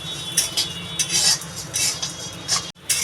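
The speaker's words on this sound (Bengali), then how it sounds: "এটা নাড়াচাড়া কন্টিনিউ নাড়াচাড়া দিতে থাকতে হবে" Rice flour mixture being stirred in a pan for rice-flour laddus, heard as repeated scraping and clinking strokes of a utensil against the pan, steady and close, with no talk.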